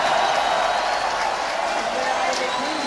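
A skateboarding contest crowd cheering on pro skater Sean Malto, a steady wash of distant applause and shouting that stays even throughout, with some talk mixed in.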